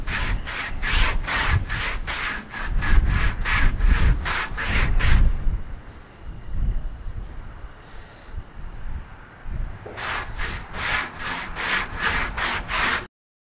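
Sandpaper rubbing back and forth over a wooden farmhouse sign, a steady run of quick close strokes that pauses for several seconds midway and then resumes alone.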